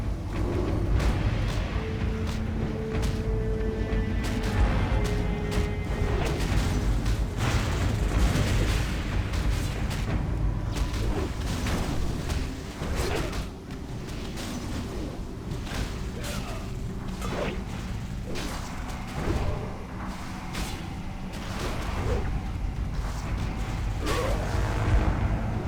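Booming spell blasts and clashing combat effects from a World of Warcraft battle rumble continuously, loud and dense, with repeated explosive hits layered over one another.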